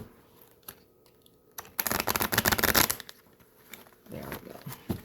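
Tarot cards being shuffled by hand in a bursty riffle of rapid papery flicks and slaps, loud and close, with quieter card handling before and after.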